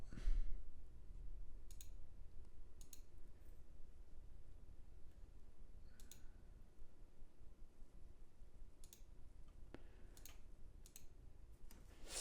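Sparse, faint mouse clicks sound at irregular intervals against a quiet hiss while email settings are navigated, single sharp taps spaced a second or more apart.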